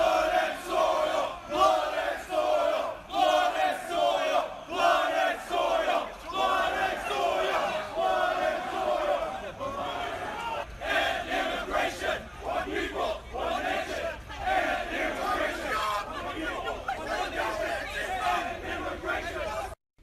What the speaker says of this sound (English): The alt-right demonstrators gathered late on Friday and chanted "Blood and Soil, One People, One Nation, End Immigration,"